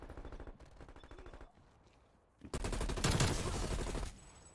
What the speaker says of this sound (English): this shoots out like basically like lightning rounds is what it's shooting out